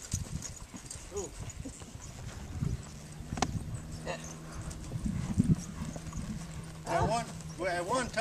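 An old mare loping, her hoofbeats a soft rhythmic clip-clop under near-continuous talk from the rider, with a few snorting breaths and faint background animal noise.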